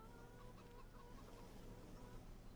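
Chickens in the farming game Farming Simulator 25 cluck faintly and intermittently beneath a steady low background hum, with no voices over them.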